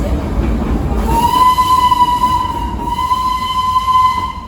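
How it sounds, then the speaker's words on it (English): A steam train in Darjeeling rumbles past with a long, sustained whistle blast over the heavy noise of the moving cars, loud and near. "There goes the steam train."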